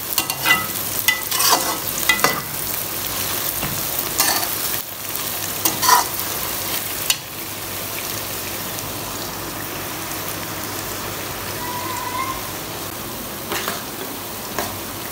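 Sliced onions frying and browning in oil for chicken biryani, with a steady, close sizzle broken by louder scraping stirs in the first half, then settling into a continuous softer crackle.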